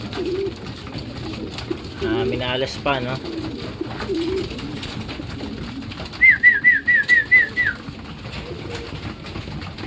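Racing pigeons coo softly in the background while a person speaks nearby, followed by a quick series of short, rhythmic coos.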